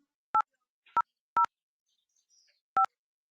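DTMF dialing tones keyed on a support telephony system, four distinct beeps in an uneven rhythm, clear and close with silence between them.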